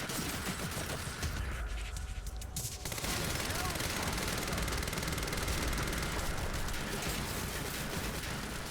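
Continuous, fairly faint rattling gunfire during a Quantum Break shootout, a dense barrage with a short thinner stretch early on before it resumes steadily.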